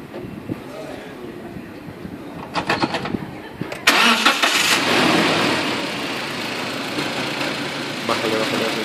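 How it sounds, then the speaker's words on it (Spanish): A car engine is cranked and fires up in a workshop during a sensor test, with clicking and a burst of starter noise before settling into a steady idle; background voices murmur around it. "vamos a proceder a encender el vehículo para probar el sensor"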